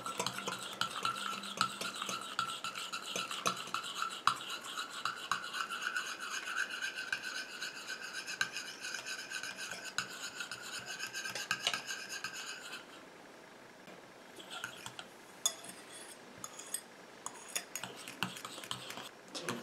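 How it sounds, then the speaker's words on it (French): A spoon or whisk scrapes steadily around a bowl of homemade anti-itch cream as the oil and water phases are blended, producing a continuous rhythmic rasping that softens near the end, close and without talk. "Je continue à mélanger comme ça jusqu'à ce que ma préparation refroidisse et épaississe."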